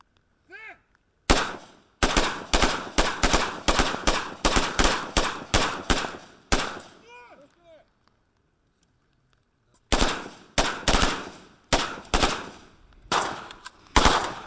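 Live-fire gunfire from a border guard exercise at a training range in Abkhazia: loud, close bursts of rapid automatic shots, a pause near silence, then further volleys.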